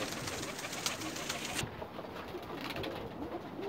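Pigeons kept in breeding pairs, mixed breeds among them, coo softly and repeatedly within a loft setup, with a steady hiss of background noise and no voices.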